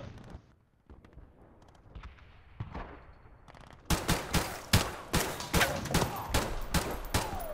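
AK rifle fire in Modern Warfare Remastered during a competitive 3v3 match on Crash: after a quieter stretch of scattered shots and movement, rapid sharp bursts of automatic gunfire ring out loud and steady for the last few seconds.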